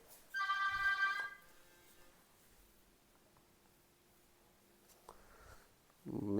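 A mobile phone left lying nearby in a room where a science practice lesson is underway gives one short, bright ringtone burst near the start, then fades to quiet rustling and faint handling noise.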